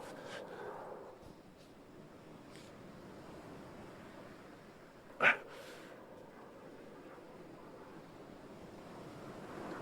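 Ocean waves breaking on a beach, a continuous soft roar of surf with wind noise and one brief sharp sound near the middle, no speech.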